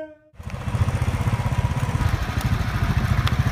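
A motorcycle engine starts after a brief tone and settles into a loud, close, rapid thumping idle that keeps a steady, even beat.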